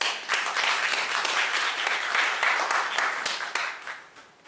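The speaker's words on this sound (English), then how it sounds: "Ladies and gentlemen, give her a round of applause." Sustained applause from a graduation audience at Montego Bay Community College welcoming their MP, a dense, steady wash of many hands clapping together that fades slightly near the end.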